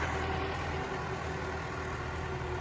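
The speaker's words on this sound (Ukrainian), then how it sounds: "Чуєте, як працює" A YuMZ tractor engine idling steadily nearby, a constant low rumble with a faint high whine, no voices.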